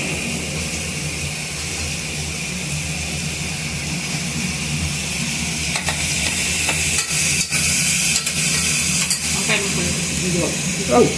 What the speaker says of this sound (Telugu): దాని తర్వాత వంకాయ ముక్కలు వేసుకోవాలి.